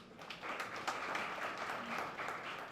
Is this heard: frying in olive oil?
no